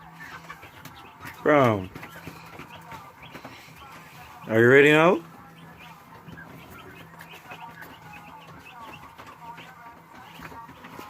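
Chickens let out two sharp, squawking clucks a few seconds apart, loud and close, while a person talks quietly in between.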